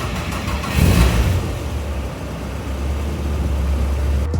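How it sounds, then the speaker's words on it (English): A Caterham sports car with its stock exhaust cold-starts: the starter catches and the engine flares briefly, then settles into a steady, low, fairly muted idle that holds to the end, with no talking. "it was time for a disappointing cold start"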